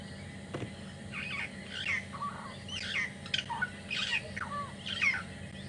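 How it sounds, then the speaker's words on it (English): Starlings call from a tree at dusk in the bush, giving a run of harsh squawks and chirps at moderate distance over a quiet background. "The starlings are right up there in that tree that are calling right now."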